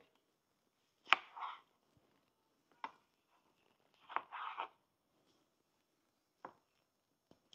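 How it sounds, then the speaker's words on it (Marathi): A knife dices tomatoes on a cutting board, a few sharp separate chops and short slicing scrapes spaced out over several seconds, close and quiet, with no talk. "पण आता टमाटर पण डॅश कटिंग करून घेणार आहे"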